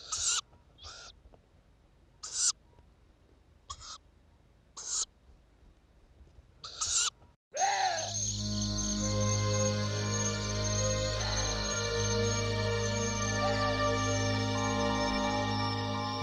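Owlets calling in Gwangneung forest: a series of sharp, evenly spaced hissing screeches, then a sudden switch to a dense, louder sustained wash of tonal calls and rasping.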